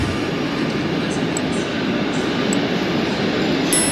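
A train stands at a terminal station where services end its run, giving a steady, loud rumbling hum of rail machinery with faint high clicks throughout and no voices.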